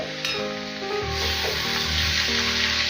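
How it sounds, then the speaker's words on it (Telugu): Chilli powder and coconut are stirred into vegetables in a hot pan, with a steady close sizzle and the scrape and rub of a spoon against the pan. "ఈ కారము కొబ్బరి అంతా కలిసేలాగా బాగా మిక్స్ చేసుకుందాము"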